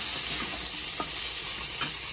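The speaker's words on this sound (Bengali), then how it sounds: "লাউ দিয়ে আলু দিয়ে মাছের তরকারি রান্না করব, সেটাই ভাজা করে নিচ্ছি" Steady broadband sizzle of fish frying in a pan for a curry with bottle gourd and potato, with a few faint scraping clinks of a utensil stirring.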